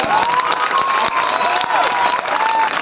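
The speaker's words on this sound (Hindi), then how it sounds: "ऐसी जोरदार तालियां बजाते हो मेरे भैया" A large crowd claps loudly and continuously, with scattered cheers and whistles mixed into the dense applause.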